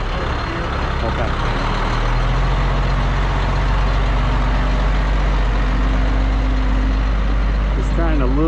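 A vehicle fitted with AutoSock fabric snow socks labours in a low gear, its engine droning loud and steady throughout with a person talking over it.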